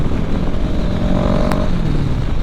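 Kawasaki ER6N motorcycle fitted with an Akrapovic exhaust revving hard, a loud, steady close-up engine roar holding high through the whole stretch with a brief sharp click midway.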